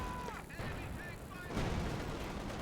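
T-70 light tank and battlefield fire in the World War II strategy game Company of Heroes 2, sharp gunfire bursts and a rumbling blast over dense background battle noise, with a short tonal alert call earlier.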